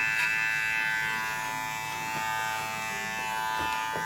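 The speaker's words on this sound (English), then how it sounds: "Okay, so now I'm going to open that clipper up." Electric hair clipper buzzing steadily close-up as it cuts hair for a grade 1 fade with long layers, opened up to blend; continuous even hum with slight variations as it moves through the hair, no talking.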